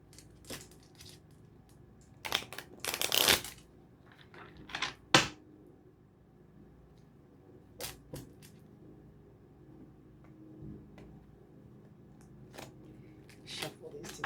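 Tarot cards shuffled briefly in a couple of papery bursts, followed by light handling clicks and taps in an otherwise quiet room.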